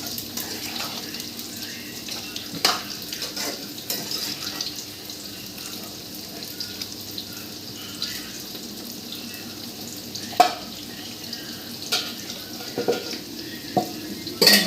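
A pan of chicken biryani is stirred after coriander is added, soft scraping and sizzling under a steady background hiss, with a few sharp clinks of the spoon against the pan.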